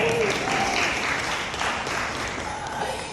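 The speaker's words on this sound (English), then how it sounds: "Yes, you can clap, go ahead." An audience claps in a steady, dense wash through the whole stretch, fairly close and even in loudness, with a voice faintly audible beneath it.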